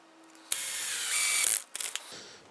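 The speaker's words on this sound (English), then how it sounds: "I'll drop a screw into it." A power drill drives a screw into a drawer slide for a walk-in robe set of drawers: one sustained whirring burst of about a second, then brief clicks and short spurts as the drill stops.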